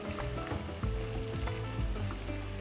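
Boiling water poured over meat in a hot pot for bigos, giving a steady, dense sizzling hiss that runs without a break and sits loud and close throughout.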